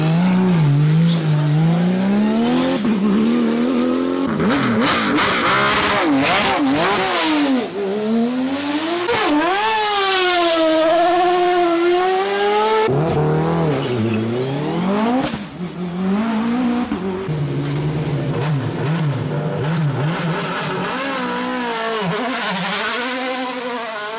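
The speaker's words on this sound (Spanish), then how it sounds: "Parte final, ahí vemos el coche de Ordóñez, que al final ha ganado el Campeonato de España" A rally car climbs the Subida al Fito hill climb in 2021, its engine screaming loud and close, rising through the gears again and again with sharp shifts and brief dips, continuous for the whole stretch with no voices.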